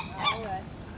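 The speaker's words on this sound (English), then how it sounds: "Oh, many birds." A goose gives a single honk among birds at a lakeside, a short nasal call heard fairly close outdoors with faint background noise.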